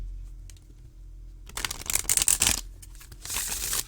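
A deck of Gentle Creatures oracle cards being shuffled by hand: after a quiet pause, a dense burst of papery riffling and slapping, a short lull, then another brisk burst of shuffling close up.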